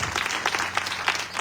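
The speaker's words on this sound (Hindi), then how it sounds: "आइए तालियां बजाएंगे।" Church congregation clapping together for a young girl's prophecy during a Christian sermon, a steady wash of applause that stays at an even level across the clip.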